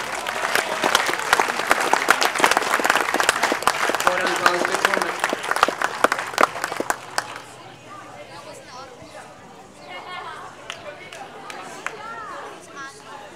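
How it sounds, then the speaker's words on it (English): Applause for the Western team at a Year 7/8 district school tournament prize-giving: a large crowd claps loudly and steadily for about seven seconds, then the clapping stops and someone speaks over quiet murmuring. "final round of applause for Western"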